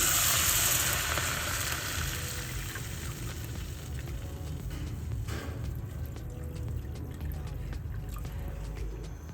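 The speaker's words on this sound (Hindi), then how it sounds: "ये हमारी यखनी है, ये इसमें ऐड कर रही हूँ मैं।" Chicken stock (yakhni) is poured into a soup pot with a gushing liquid splash that is strongest at first and then settles into a steady bubbling and sizzling. No voices are heard.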